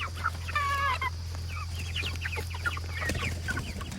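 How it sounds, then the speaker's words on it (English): Chickens cluck and chatter steadily nearby over a constant low hum, with one louder squawk standing out briefly. "chickens are happy, they're off and running."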